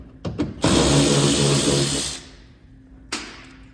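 A power drill spinning out two black bolts on a Toyota Tundra third-generation pickup during splash guard installation, with two brief trigger blips followed by a sustained whirring run of about a second and a half and one more short burst.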